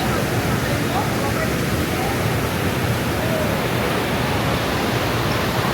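Maria Cristina Falls in Iligan City, Lanao del Norte, Philippines, gives off a loud, steady, close rushing roar of falling water that holds constant throughout without pause.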